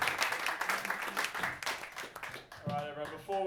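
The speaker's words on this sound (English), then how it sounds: "Round of applause." An audience at a big band gig claps for the musicians, a brief scattered round of applause mixed with voices and talk, fading as a sustained tone appears near the end.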